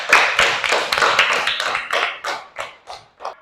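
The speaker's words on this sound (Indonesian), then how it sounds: "Beri tepuk tangan untuk kelompok 3." A classroom of students clapping for a presenting group, a brisk burst of close hand claps that thins out into a few separate slower claps before stopping.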